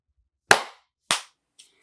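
Two sharp, loud hand claps about half a second apart in a quiet room, each with a short decay, followed by a faint tap.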